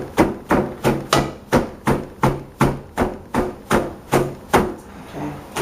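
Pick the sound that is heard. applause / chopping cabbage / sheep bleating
chopping cabbage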